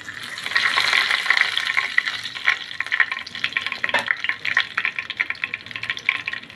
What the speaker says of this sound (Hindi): उसी तेल में सूखी लाल मिर्च, थोड़ा सा जीरा का तड़का लगाऊँगी।